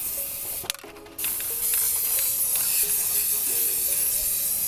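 Spray paint hisses steadily as an object is coated black for a homemade Thanksgiving centerpiece, a loud continuous blast after a brief pause, no voices.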